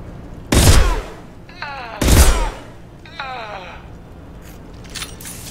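Gunfire in Mass Effect 2, fought between Blue Suns and Vulture mercenaries: two loud, sharp broadband shots about 1.5 seconds apart, each with a booming low tail, while voices talk in between.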